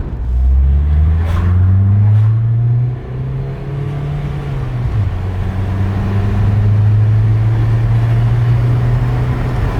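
A tuned VW T5 van's diesel engine drones loudly from inside, its pitch climbing as it accelerates, dipping briefly at a gear change, then pulling steadily again.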